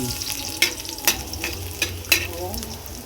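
Garlic fries in hot oil for chicken adobo with a close, crackling sizzle. Several sharp spatula scrapes and clinks break through at uneven intervals. No voices.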